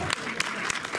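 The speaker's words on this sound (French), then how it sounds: "Vous pouvez même applaudir ça" An audience applauds in a steady wash of clapping, dense and fairly close, with a voice speaking faintly over it.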